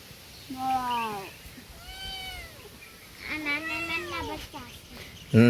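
Kittens meow in a few drawn-out, rising and falling calls, close by and fairly loud, with a sharp bump at the very end.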